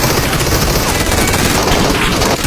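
Sustained rapid gunfire from a firearm in the Metro escape-mode shooter game, loud and continuous bursts with no gaps over the whole stretch, no talking.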